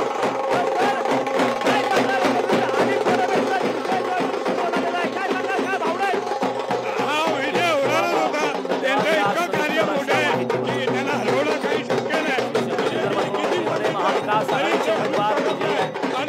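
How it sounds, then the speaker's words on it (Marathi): A dense crowd of Shiv Sena UBT party workers celebrates a lead in a Mumbai teachers' MLC election vote count, a loud, sustained mix of cheering and many overlapping voices. "मोठ्या प्रमाणात कार्यकर्ते जे आहेत आपल्याला जल्लोष करताना या ठिकाणी दिसून असतील"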